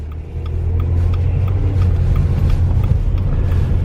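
A car drives steadily along a winter road, its engine and tyre rumble loud, close and continuous with no talk over it.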